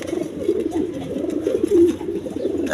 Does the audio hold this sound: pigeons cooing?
yes